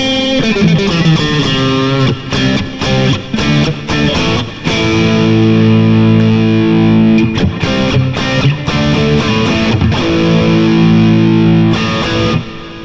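Vola electric guitar with two single-coil pickups, loud and distorted through effects, strummed and picked in chords with brief stops and restarts, ringing sustained notes, no talking.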